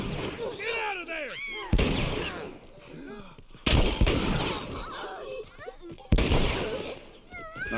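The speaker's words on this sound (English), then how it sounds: "Nice, two headshots." Gunshots in The Last of Us video game, three sharp, loud broadband blasts spaced about two seconds apart, with a person talking and exclaiming between and over them.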